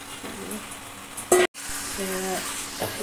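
Chicken and potatoes going into hot spiced oil in a pan give a steady close sizzle with a sharp clatter partway through, and a voice speaks briefly over the frying.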